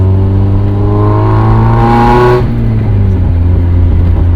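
A 1996 Mazda Miata engine revs loudly while driving, the pitch climbing steadily for about two seconds, then dropping as it shifts and settles into a lower, steady drone.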